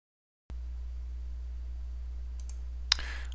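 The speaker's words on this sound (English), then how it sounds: "Let's just right click on that and take a look at it." A computer mouse gives a single crisp right-click near the end, set against a steady low hum from the computer with no other sounds.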